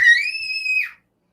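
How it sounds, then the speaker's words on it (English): A child screams one high, sustained, piercing note lasting just under a second, loud and alone before cutting off into silence. "No screaming."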